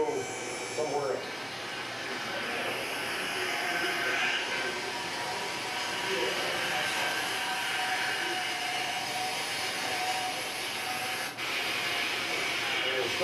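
A vacuum pump draws trapped air out through a clear power steering fluid line into a small isolation bottle, giving a steady, close, continuous hiss that runs unbroken for the whole stretch.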